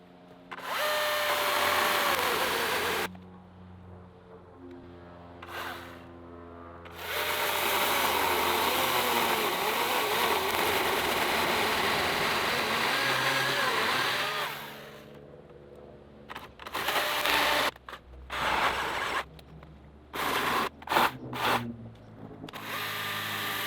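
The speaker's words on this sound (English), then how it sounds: "So we've got the Husqvarna 120i out here. We're gonna give it a little test." Husqvarna 120i battery chainsaw being tested on a roughly 10-inch tree, its electric whine running in long loud stretches, then clipped into short choppy bursts near the end, close with no talking.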